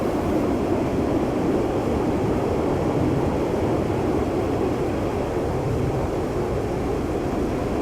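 A Mirage jet in Digital Combat Simulator flying on autopilot gives a steady, dense broadband roar of engine and rushing air, constant and loud with no breaks.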